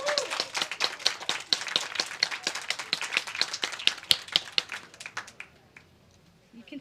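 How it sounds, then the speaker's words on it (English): A room full of people claps in a round of applause at a nursing school pinning ceremony, a dense patter of hands at moderate distance that fades and stops near the end. "Round of applause, people."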